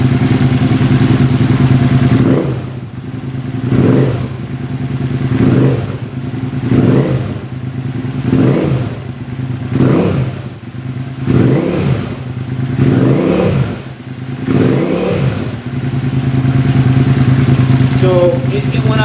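A 2005 Suzuki SV650 motorcycle fitted with a Delkevic SL10 exhaust idles with a steady low throb, then gets about nine sharp revs in a regular rhythm, each rising and dropping back, loud and close, with no one talking.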